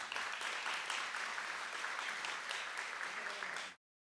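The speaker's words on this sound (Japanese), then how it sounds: "皆様一度拍手をいただけたらと思います" Steady applause from the audience at a Japanese corporate career-support awards ceremony, dense clapping sustained for nearly four seconds before cutting off abruptly into silence.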